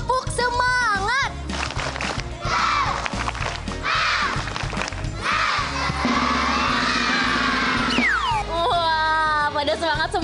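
A group of children performs a rhythmic spirit clap chant at a kids' show, their voices shouting together over sharp patterned claps, loud and close, with cheering and a host's voice around them.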